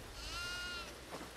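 A single quavering goat bleat in the farmhouse horror game Devour, faint and brief, wavering for under a second before trailing off.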